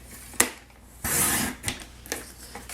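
A sheet of cardstock is trimmed on a paper trimmer, with close clicks and a short rasping slide of the blade across the paper, then a few light taps.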